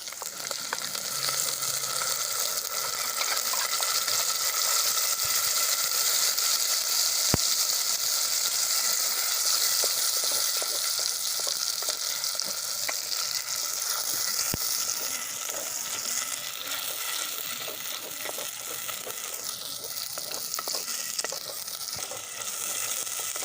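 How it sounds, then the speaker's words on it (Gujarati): Onion and tomato gravy sautéing in a pan over ginger-garlic paste, a steady, close sizzle and frying hiss running throughout with faint stirring clinks, no talk. "આપણે આદુ લસણની પેસ્ટ સંતળાઈ જાય છે તો એમાં આપણે ડુંગળી અને ટમેટાની ગ્રેવી ઉમેરી દઈશું"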